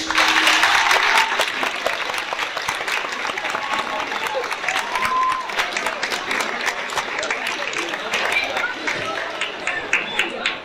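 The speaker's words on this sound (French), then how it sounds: "Je vais vous demander un maximum d'applaudissements pour le jury, s'il vous plaît." A large audience at a beauty pageant claps loudly and continuously for the jury, dense applause with a few voices calling out, fading slightly but sustained throughout.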